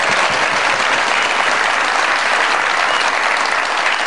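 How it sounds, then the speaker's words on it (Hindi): A studio audience claps loudly and steadily to welcome a guest on a comedy talk show, a dense burst of applause that fills the whole stretch. "बहुत सारी तालियों में वेलकम कीजिएगा"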